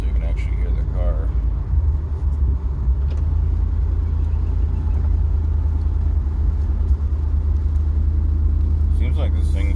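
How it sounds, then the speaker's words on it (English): An F-body car cruises with its windows partly down, giving a steady low engine rumble and road drone throughout with only mild wind noise. "Right now I'm just going to do a little cruise with the windows down a little bit, so it's not crazy wind noise, so you can actually hear the car."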